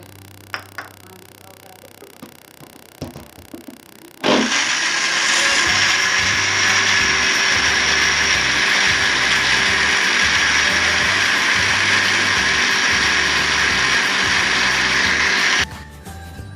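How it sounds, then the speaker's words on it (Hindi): A kitchen blender grinds raw mango pieces with water, starting abruptly after some light handling clicks and running loud and steady for about eleven seconds before cutting off. "केरी मैंने ब्लेंडर में डाल दी है। अब पानी डाल के इसको ब्लेंड कर लेंगे अच्छे से।"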